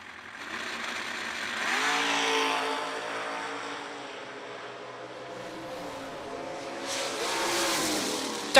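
Drag racing launch of the Houdini Camaro and the Mustang Silver Bullet at a Winter Warmup event, two engines roaring off the line with rising revs, a surge of loud power, then sustained high-revving drone as the cars pull away.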